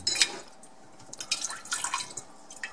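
Water from a detached dishwasher drain tube under a kitchen sink drips and trickles in short, irregular splashes, close and fairly quiet, with no talk.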